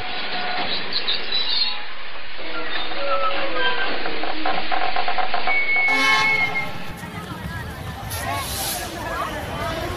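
A train stopping at a station crossing as a sound effect in a narrated audio story, rumbling and rattling under a steady narrating voice, with a clean tonal signal partway through and busier noise afterward.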